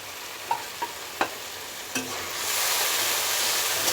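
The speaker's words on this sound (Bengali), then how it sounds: "আমি মাছটাকে আমি ভালোভাবে লাল লাল করে ভেজে নেব" Small shrimp frying in a pan for a bottle gourd and shrimp dish: a few spatula taps and scrapes, then the sizzle of hot oil swells into a steady loud hiss, with no one speaking.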